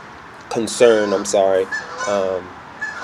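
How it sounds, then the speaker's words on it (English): Several Canada geese honk in short, nasal bursts, three or four calls overlapping outdoors against steady background noise. "some Canadian geese going about"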